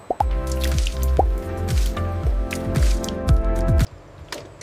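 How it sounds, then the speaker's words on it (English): Melted fat for cream manufacturing drips and flows in close, wet plops and squishy drops, several in a row, with a liquid gurgle running under them before it stops abruptly. "Fat is melting perfectly, beautiful liquid flow."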